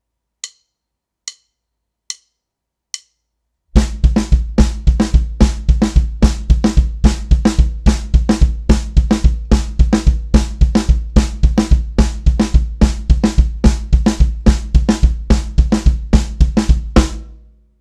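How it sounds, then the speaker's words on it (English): Drum kit groove layering bass drum eighth-note triplets against eighth notes in the hands, a 3 against 2 polyrhythm: four sparse clicks count in, then a dense, steady, loud pattern of kicks and hits runs to the end. "Now my bass drum is going to start playing eighth note triplets while my hands are still playing regular eighth notes."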